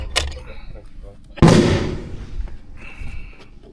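.300 Norma Magnum rifle firing at a long-range shooting event: one loud, sharp report with a decaying rumbling tail, close to the listener, and a fainter thump just before, with people talking around it.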